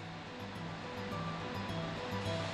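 Water released from the Riaño dam in the mountains of León roars as a steady, broadband rush, like a waterfall, fairly faint and continuous with no voices.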